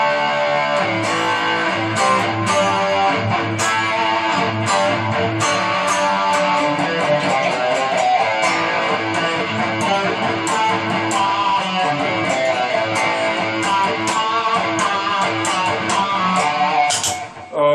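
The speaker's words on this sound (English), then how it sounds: "This is an analog chorus, so this is the MXR analog chorus" An electric guitar played through an MXR analog chorus pedal rings out as a continuous strummed and picked passage, shimmering and full, loud and close with no voices.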